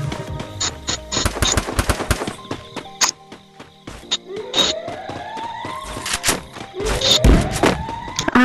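Rapid bursts of video game gunfire from Free Fire, loud and close, with repeated volleys and single shots scattered across the stretch and other game effects between them.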